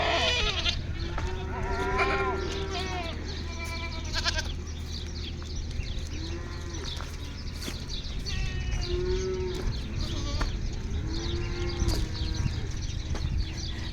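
A herd of cattle and goats comes in from pasture toward a milking parlor and shed. Repeated moos and bleats overlap against a constant low rumble of the herd and farm.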